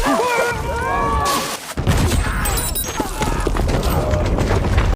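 A buried landmine in an action film detonates with a heavy, loud boom, followed by a dense rumbling blast and scattered debris crackle that fills the rest of the scene.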